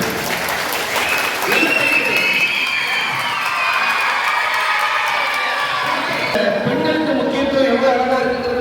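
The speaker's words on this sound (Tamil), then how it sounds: "எல்லோரும் நல்ல கைத்தட்டை கொடுக்கலாம்" Sustained applause and cheering from an audience at a summer training program closing ceremony, loud and continuous with scattered children's shouts and whoops mixed in.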